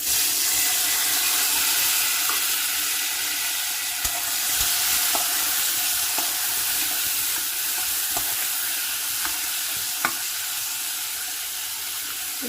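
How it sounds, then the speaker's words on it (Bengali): Thickly sliced onions sizzle in hot oil for an egg curry, a loud continuous hiss with occasional light clicks and taps from stirring in the pan. "পেঁয়াজটা আমি দিয়ে দিচ্ছি এবার তেলে।"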